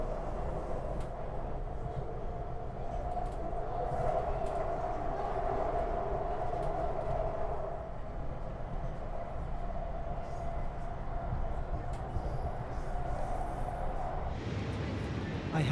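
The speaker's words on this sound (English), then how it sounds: "This one's really more of a subway kind of sound, but people fall asleep on those all the time." Subway train sound played from a sleep sound machine, a continuous rumbling roar with a steady droning tone and rattling, loud and unbroken, shifting character near the end.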